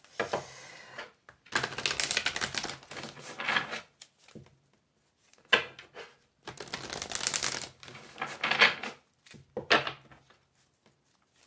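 Tarot cards shuffled by hand in close, dry bursts of riffling and rubbing, several rounds separated by brief pauses.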